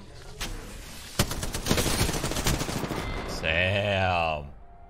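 R-301 rifle fire in an Apex Legends match, rapid bursts of automatic shots crackling close and loud, followed by a rising whining game effect, with a player talking over parts of it.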